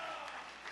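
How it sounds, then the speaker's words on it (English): Brief burst of audience applause at the close of the final round of a competition event, a steady wash of clapping from a modest crowd heard for under a second. "let's give a big round of applause once again to Delsey for the winner of Phace The Phile"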